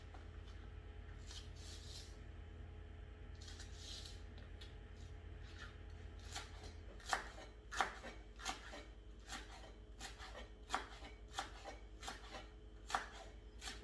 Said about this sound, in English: Then you cut your green onions.